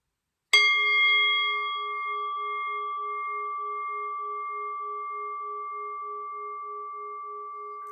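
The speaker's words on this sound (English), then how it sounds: "ring the bell" A meditation bell rings once with a sharp strike, then a clear, steady ringing tone hangs in the quiet for several seconds, slowly fading and still sounding at the end.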